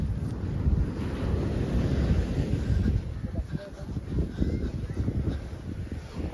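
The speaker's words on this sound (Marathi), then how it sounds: "समुद्राचा आवाज भरपूर येत आहे." Sea waves and gusty wind on a Kerala beach make a steady, loud roar with rushing surf, dominated by low rumbling wind buffeting the microphone.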